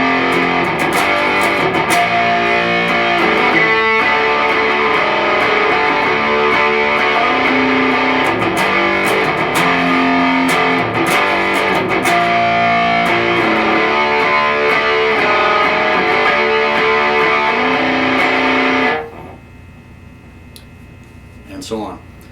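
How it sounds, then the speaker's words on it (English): A distorted electric guitar plays a chunky, repeating chorus riff loud and steady for most of the clip, then cuts off abruptly, leaving near silence. "Chorus riff, once again, is really easy. I'll play it through for you"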